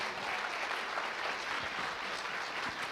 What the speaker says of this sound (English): So can we give them another round of applause, please?